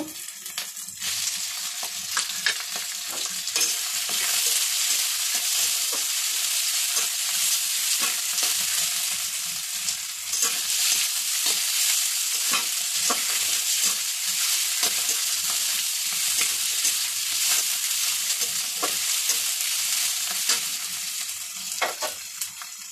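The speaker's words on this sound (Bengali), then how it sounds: "এবার এই মাছের তেলটা দিয়ে দেব।" A pan of onions frying in fish oil hisses continuously and loudly, broken by frequent scraping and tapping as a spatula stirs, with no voices present.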